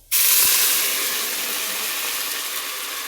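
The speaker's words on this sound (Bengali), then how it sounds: "পানি দিয়ে দিলাম, শব্দটা তো শুনতে পারছেন।" Water poured into a pot of fried onions for pulao bursts into a loud, sudden steaming hiss that fades only slightly as it continues.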